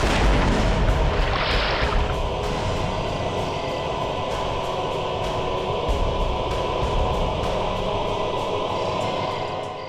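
Deep, rumbling booms of dynamite blasts in a river roll through a constant wash of noise, with a sharper burst early on, distant and heavy, at night by a riverbank, no talking.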